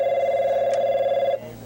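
A telephone rings at a customer support line, one steady electronic ring tone held for over a second and then cut off, close and clear with no talk.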